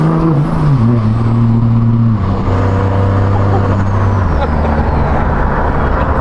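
Hyundai Elantra N engine and exhaust pulling hard while driving, loud and close, with a steady deep drone that drops in pitch at shift points, no talk over it.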